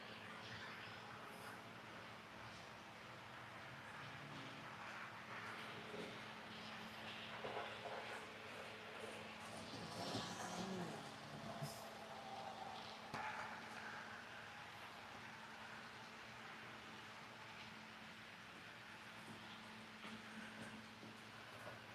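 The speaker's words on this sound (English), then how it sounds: "I want you to look at how that train is going" A small HO scale model train runs continuously with a low rolling rumble and faint clicking, fairly quiet and steady throughout.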